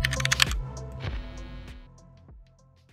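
Keystrokes on a custom mechanical keyboard: a quick cluster of crisp clacks, then several spaced, fainter taps that fade out, close and without voices.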